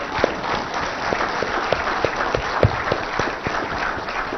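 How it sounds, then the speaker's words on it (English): Steady audience applause at an annual report launch event, many hands clapping densely for several seconds at a constant, fairly loud level with no voices over it. "my entire team deserves a huge round of applause"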